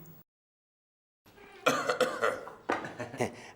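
A short cough bursts out near the start, followed after a pause by a few loud, harsh coughing fits close by.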